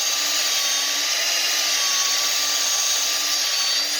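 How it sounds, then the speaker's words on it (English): A drill running at its slowest setting drives a hone inside a master cylinder, giving a steady, continuous whir with a sustained tonal whine that holds even and unbroken throughout. "You want to do this on your slowest setting on your drill."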